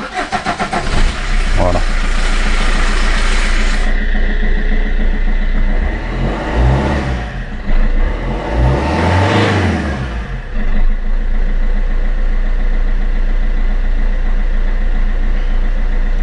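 A Fiat Punto engine cranks and starts after an oil and filter change, settling into a steady mid-pitched idle, close and loud, with someone speaking briefly over it.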